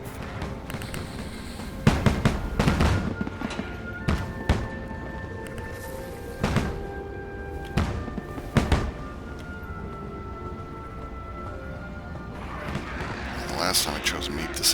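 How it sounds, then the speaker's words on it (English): Fireworks set off during a Dragon Bash Festival in a video game, with repeated sharp bangs and crackling bursts scattered through the scene, with faint tonal music, while a person talks over them. "I also don't know if firing off the fireworks helps any"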